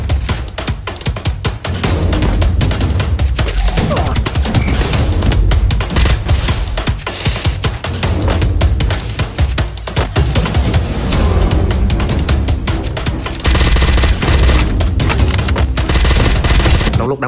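An M249 light machine gun in a video game fires long, loud automatic bursts, dense rapid gunfire nearly continuous with brief pauses between strings of shots.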